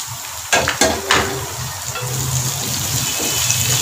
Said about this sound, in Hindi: अब अदरक लहसुन का पेस्ट डाल के इसको अच्छी तरह से भूनें 1 से 2 मिनट के लिए